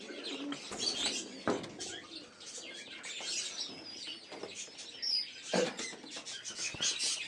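Domestic pigeons coo repeatedly in soft, throaty bursts, joined by a few chirps and a brief wing flap, with quiet talk in the background.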